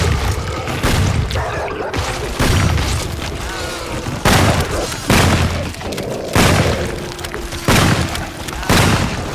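Volleys of gunfire in an audio drama battle scene set in tall bushes and grass, with repeated heavy booming bursts coming every second or two, loud and close, over a dense rumbling background.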